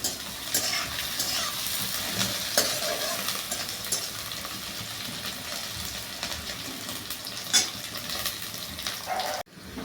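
Slit green chilies fry with lightly browned onion in a pan, giving a steady close sizzle with occasional scrapes of stirring that cuts off abruptly near the end, with no talking.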